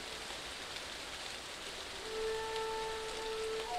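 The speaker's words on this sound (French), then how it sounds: "Dans la plaine, la pluie commençait à s'éloigner." Steady rain falls over a plain, a soft, even hiss of drops on surfaces heard alone at a moderate level, with a faint thin tone entering partway through.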